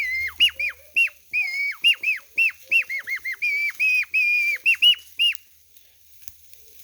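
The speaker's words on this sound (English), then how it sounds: "This is a nose whistle. You put your nose in there, your mouth in there, then you blow through your nose and you can play music." A nose whistle plays a quick, bright tune of about twenty short, piping notes, some sliding in pitch, loud and close, before stopping abruptly near the end; no talking.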